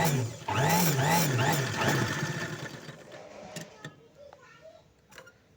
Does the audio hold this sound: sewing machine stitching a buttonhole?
yes